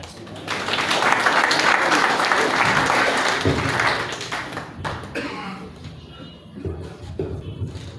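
An audience at a Catholic diocesan gathering of intellectuals and Christian executives claps for a speaker; dense applause swells for about four seconds, then thins into scattered claps with murmuring voices.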